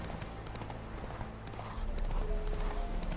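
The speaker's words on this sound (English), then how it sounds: "Aquí nomás rebotas con todo el caballo." Horse hooves clip-clop at a steady galloping rhythm in The Witcher 3, close and continuous, with the pounding growing slightly louder partway through.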